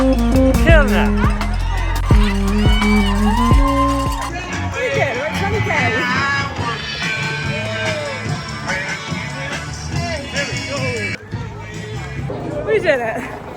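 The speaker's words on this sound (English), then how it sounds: "The crowds are amazing." Crowd cheering at the New York City Marathon, a dense steady roar of spectator voices, whoops and shouts heard from among the runners, with a close voice talking over the din.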